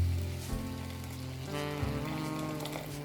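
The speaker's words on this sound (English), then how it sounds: "I'll put a bit of boiling water in there." Boiling water is poured into a pot for lamb biryani, a steady, close splashing pour that runs for a few seconds with no talking over it.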